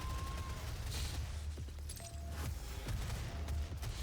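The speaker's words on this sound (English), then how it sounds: "especially since I'm using the chain gun" Rapid chain gun fire from the 2016 DOOM video game, a dense, continuous roar of gunfire with scattered impacts and bangs that runs through the whole stretch at steady loudness.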